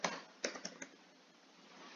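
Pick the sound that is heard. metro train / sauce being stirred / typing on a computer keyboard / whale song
typing on a computer keyboard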